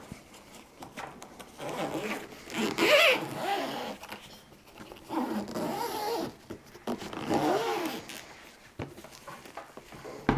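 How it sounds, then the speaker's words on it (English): A zipper closes a Starlink backpack that holds the satellite dish antenna. It gives close, scratchy zipping runs around the three- and eight-second marks, with soft handling rustles in between. "and we can just zip it back shut."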